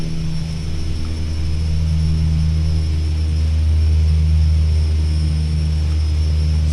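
A Carenado B200 King Air turboprop taxiing in X-Plane 10 gives off a steady, loud engine drone with a strong low hum and a faint high whine, holding constant throughout.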